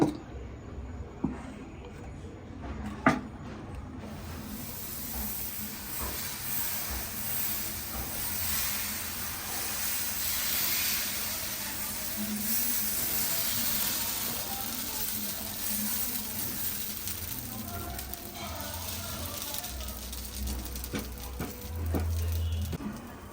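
Dosa batter sizzles on a hot pan, a soft continuous hiss and crackle running steadily throughout at low volume, with a few faint clicks near the start.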